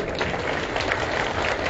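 A crowd claps at a rally of government employees demanding the old pension scheme, steady dense applause from many hands with a murmur underneath.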